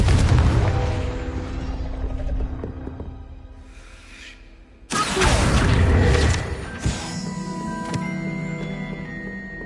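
Explosive Confringo spell cast in Hogwarts Legacy, a sharp loud blast that cuts in abruptly after a quieter stretch, followed by rumbling debris and a few smaller impacts amid game ambience.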